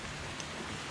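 Rain falls in the dark near the coast, a dense, steady patter of drops that stays even and moderately faint throughout, with no voices.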